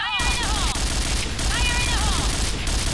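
Gunfire and grenade blasts from the Point Blank shooting game crackle as a steady, dense barrage throughout, with people talking excitedly over the din.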